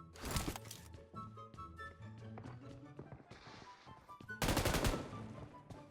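A Scorpion gun fires in PUBG Mobile with fast automatic bursts, one sharp burst at the start and another near the end, plus scattered lighter cracks and game sounds between them.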